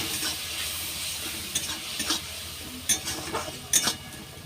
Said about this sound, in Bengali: একটু নেড়ে নেব খুন্তিয়ে করে